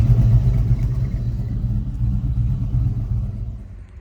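A Ford OBS-generation Bronco with a swapped-in LS V8 rumbles at a steady idle, loud and close, a deep continuous low throb with no voices over it.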